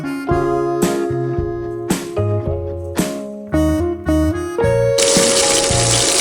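Tap water runs into a cooking pot while making beef patties and buckwheat, a steady close rushing stream that swells in the last second, with tonal music playing throughout.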